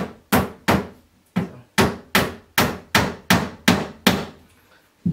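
A hammer drives nails into flat-pack furniture at home with ten sharp, close, loud blows at an uneven pace, each ringing briefly before the next strike, with no talking.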